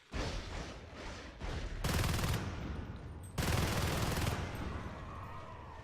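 Marines fire on a Harvester in Natural Selection 2, with rapid automatic gunfire rattling in dense bursts that swell and ease, loud and steady, with heavier volleys partway through.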